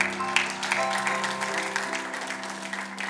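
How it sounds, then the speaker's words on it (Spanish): A church congregation applauds the Lord, a moderate wash of clapping that runs evenly throughout, with steady sustained musical tones, likely organ or keyboard, underneath. "Denle un aplauso fuerte al Señor porque Él es bueno"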